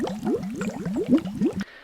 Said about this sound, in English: our bubbling cauldron.